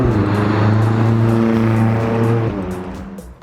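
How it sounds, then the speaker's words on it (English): A McLaren 620R engine roars loudly with a deep, rising induction growl, then eases off near the end as the revs drop. "That induction noise is unreal."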